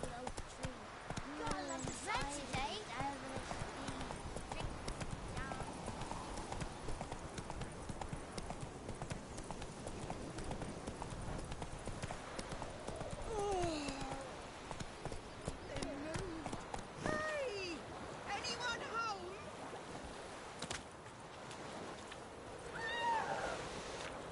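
Roach the horse's hooves in the video game The Witcher 3: Wild Hunt, a steady rhythmic clip-clop of riding heard under game music and other game sounds, with a voice speaking over it.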